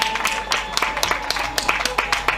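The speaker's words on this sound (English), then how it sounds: "Give them another big round of applause" Audience applause at a concert for love and unity, a dense burst of many hands clapping close and lively, with a voice speaking over it.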